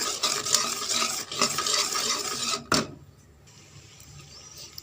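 Cardamom and pepper powder stirred into a thick ginger candy mixture in a pan, loud rapid scraping and sizzling close up that stops sharply after a final clatter, leaving near quiet, no talking.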